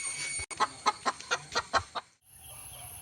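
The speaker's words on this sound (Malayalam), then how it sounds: "ഇതാ ഇതാണ് ഞങ്ങളുടെ വേറൊരു കോഴി" Laying hens cluck in a quick series of about eight short, sharp calls close by, then the sound drops to a quiet background hiss.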